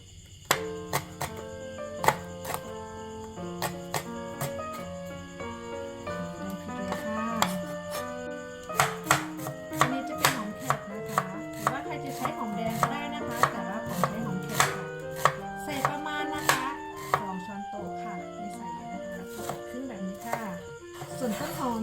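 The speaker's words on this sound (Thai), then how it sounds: "เราหั่นพริกกันก่อนเลยนะคะ" A knife chops chili peppers on a cutting board in quick irregular bursts of sharp taps, close by, over soft background music.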